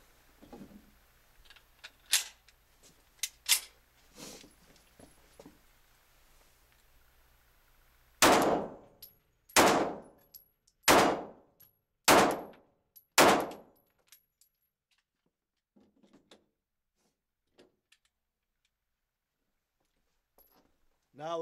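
An S&W Shield pistol fires at a shooting range: a few scattered sharp shots early, then a rapid string of five loud, evenly spaced reports, followed by faint clinks and handling noises.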